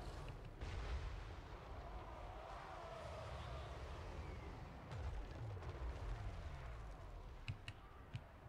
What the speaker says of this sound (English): they're just going to let us bombard their line for a bit, I guess